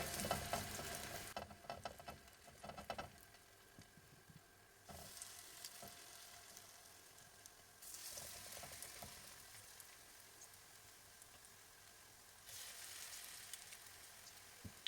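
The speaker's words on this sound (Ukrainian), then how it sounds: "Деруни викладаємо ложкою на розігріту сковорідку." Potato pancakes made with crab sticks sizzle and crackle in a hot pan, the frying swelling in bursts as each new spoonful of batter goes in.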